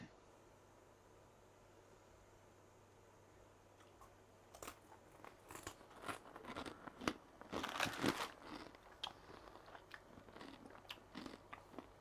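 Extra crunchy Estrella sweets are bitten and chewed close to the mic, giving a run of loud, irregular crunches and crackles after a few quiet seconds.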